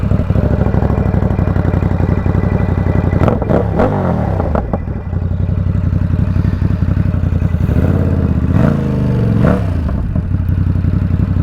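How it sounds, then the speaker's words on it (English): A Ducati Supersport motorcycle engine idles loud and close with a steady rumble, then gets a couple of sharp throttle blips and revs that rise and fall before settling back to idle. "I'm going to start the bike up and get this thing rolling."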